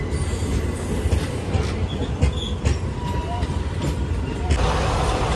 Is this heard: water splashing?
no